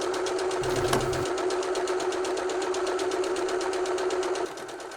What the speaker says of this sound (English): So go to your machine using a straight stitch with the longest length possible